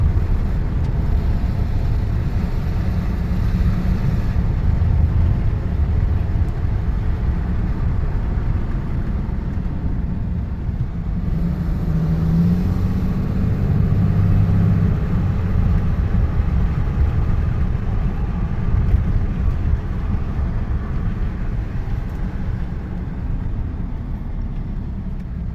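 A Dodge race car on a test drive, heard as a steady low engine drone and road rumble from inside the car, loud and continuous for the whole stretch, with no talking.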